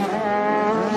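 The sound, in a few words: motocross bike engine revving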